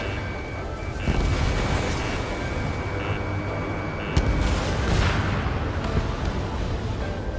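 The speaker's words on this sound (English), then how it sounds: "They're bombing us." Bombing explosions in the combat flight game Ace Combat 7 rumble over continuous jet and battle noise, dense, loud and booming, with a few sharper blasts in between.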